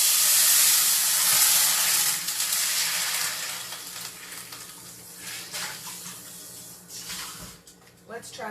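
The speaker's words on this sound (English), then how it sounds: "Oh, my butter's browning." Butter browning in a pan that has been left too hot, giving a steady loud hiss and sizzle that slowly fades, with a few clatters near the end.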